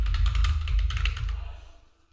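A rapid flurry of keystrokes on a computer keyboard, close and clattering, that thins out and stops after about a second and a half.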